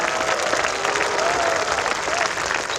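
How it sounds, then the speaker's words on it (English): Sustained applause from an audience at a school valedictory ceremony honoring teachers and staff, steady dense clapping with a faint crowd murmur and a thin tonal whistle or feedback line running beneath. "may I request all of you to give a big round of applause to all our teachers and staff members who painstakingly put together this event"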